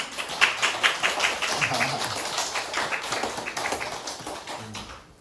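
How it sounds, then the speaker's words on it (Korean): A church congregation at an Easter Sunday service applauds with steady, moderately loud clapping that lasts about five seconds and fades at the end, while voices murmur underneath. "우리 박수 한번 줄까요?"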